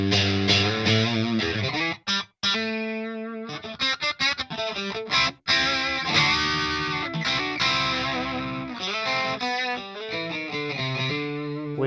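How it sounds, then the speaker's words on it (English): A Dophix Medici MORE FUZZ pedal gives an electric guitar heavy fuzz, played in stereo: chords and sustained notes, thick and saturated, with a few abrupt cuts to silence between phrases. "Let me add now the stereophony."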